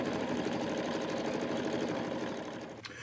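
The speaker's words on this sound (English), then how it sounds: "the machine has all finished the embroidering" An embroidery machine stitches a snowflake design onto a Christmas placemat, giving a steady, close, continuous mechanical whir and rapid needle chatter throughout, alone with no talk.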